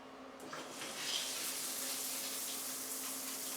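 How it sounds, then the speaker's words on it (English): A shower runs steadily in a newly converted bathroom, formerly a bathtub. The spray gives a constant, fairly faint hiss of falling water with no talking. "got a nice shower going on."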